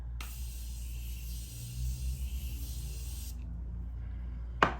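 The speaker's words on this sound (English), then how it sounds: "this is the Morphe continuous setting spray" Morphe continuous setting spray misted onto a face in one long, steady hiss lasting several seconds, close and fairly quiet, then a brief sharp burst at the end.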